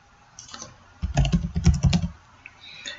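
Rapid bursts of keystrokes on a computer keyboard while entering a password on a registration page, clicking close and clear for about a second, with quieter isolated taps before and after.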